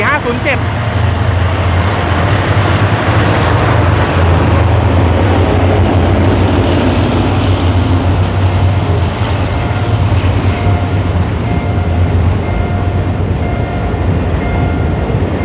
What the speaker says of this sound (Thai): เป็นรถสินค้านะครับผม ตู้คอนเทนเนอร์